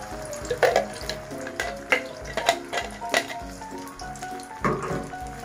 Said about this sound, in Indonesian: Setelah minyaknya panas, lalu tuang cabai yang dihaluskan tadi.